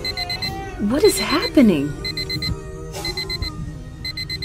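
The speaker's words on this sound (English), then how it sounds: "And what is that beeping noise?" A steady electronic beeping like an alarm clock repeats in short regular bursts through the scene while a person speaks over it, and a cat's meow rises briefly near the middle.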